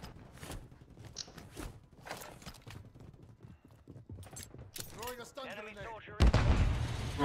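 Gunfire in the Warzone shooter game, a few muffled game shots mixed into footsteps and clattering game noise, with a voice talking over it and a loud burst near the end.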